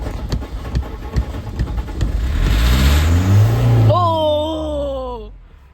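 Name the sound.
car accelerating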